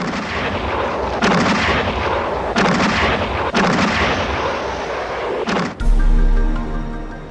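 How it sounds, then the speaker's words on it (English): Archival wartime naval bombardment near Leyte, Philippines: heavy warship artillery fires in repeated booming blasts about every second and a half, loud and rolling over a constant roar, ending with a deep low rumble. "After fierce bombardment from warships"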